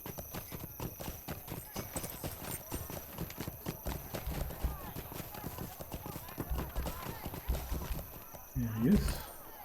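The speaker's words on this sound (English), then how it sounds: "Let's mount up. A hobbit riding on a pig, but still a champion." Rapid, regular hoofbeats drum close by as a hobbit rides a pig mount in Lord of the Rings Online, trotting steadily across the whole stretch, with a short squeal-like burst near the end and a voice talking over it.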